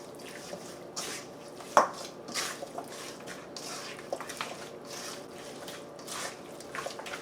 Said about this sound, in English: we're gonna mix this,